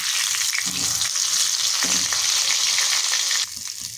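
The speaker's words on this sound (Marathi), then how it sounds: "इथे कढईमध्ये तेल गरम करून घेतलेले आहे, त्याच्यामध्ये आपल्याला कोळंबी सोडून घ्यायचे आणि दोन्ही बाजूनी व्यवस्थित फ्राय करून घ्यायचे" Prawns deep-fry in hot oil in a kadhai, a loud, continuous close-up sizzle with brief stirring clatter and no talking.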